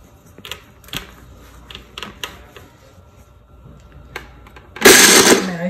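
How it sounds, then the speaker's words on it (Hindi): A kitchen blender whirs briefly and loudly near the end as it blends plums, honey and ice, preceded by scattered clicks and light knocks. "इसको आप करेंगे ब्लेंड।"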